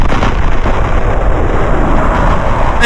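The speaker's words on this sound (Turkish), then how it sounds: "Birisi nükleer bombayı yine patlattı." Nuclear bomb detonation in a video game, a loud sustained rumbling roar that holds at full strength without letup, dense low-end blast noise with a faint high electronic whine above it.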